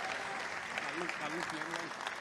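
Audience applause at a Gujarati comedy show, a steady wash of many hands clapping, faint and somewhat distant, with a voice talking over it.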